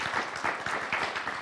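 Brief burst of audience applause for Mary Ann Villarreal at a presidential welcome event, close, choppy clapping in quick uneven pulses.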